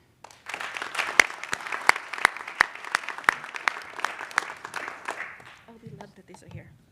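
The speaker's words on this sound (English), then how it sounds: "Please give a warm round of applause for Lele" Warm round of applause from an audience at a high school academy graduation ceremony, with sharp individual claps standing out from steady clapping that fades out after about five seconds, followed by faint murmuring.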